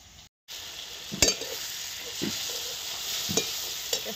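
Peas cooking in a pan with a steady, fairly quiet sizzle, broken by a few soft spoon scrapes and taps against the pan; there is a short dropout near the start.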